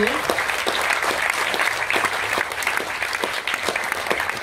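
An audience applauds at an evening event honoring tennis star Yannick Noah. Dense, steady clapping runs unbroken throughout at even loudness, with no voices rising above it.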